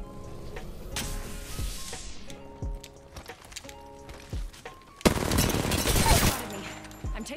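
Bursts of gunfire in Apex Legends, with sharp shots spaced through the clip and a loud, dense burst near the end, mixed over steady game music and effects.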